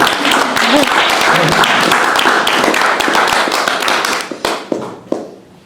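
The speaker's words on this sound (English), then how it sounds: "an applause for all of the performers" Audience applause for performers at a comedy show, a dense burst of clapping close by that thins into a few scattered claps and fades out.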